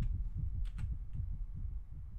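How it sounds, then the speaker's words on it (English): Minecraft All the Mods gameplay has a regular heartbeat pulsing low and fairly quiet, with a few soft clicks over it and no voices. "Why do I hear a heartbeat?"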